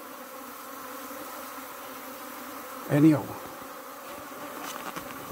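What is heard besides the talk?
bees buzzing inside a car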